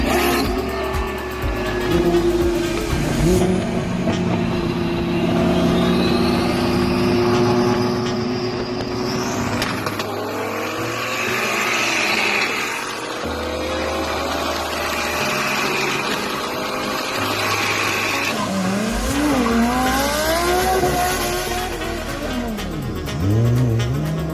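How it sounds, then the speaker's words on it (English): A loud car engine revs and roars through its exhaust, pitch climbing and falling repeatedly, with rasping pops between throttle blips. "B-Rogue built exhaust on this car"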